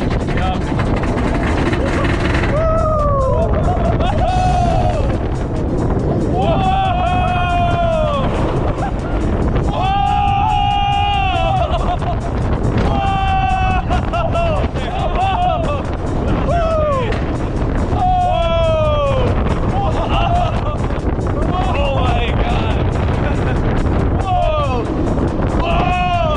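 Iron Gwazi roller coaster at Busch Gardens roars on a continuous ride with loud wind rush and rumble, overlaid by repeated screams and shouting from riders.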